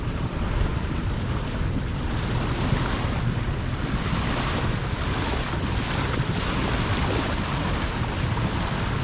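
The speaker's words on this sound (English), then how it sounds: "And we're motoring, not sailing." A sailboat motoring under engine power on open water near Hampton, heard as a steady, loud wash of waves, hull noise and wind buffeting the microphone, with no engine rhythm standing out and no talking.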